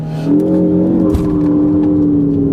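A 2013 Ford Focus ST engine revs and holds near 4,500 RPM, a loud, close, steady droning tone from a stationary car with a slight swell in pitch and no voices.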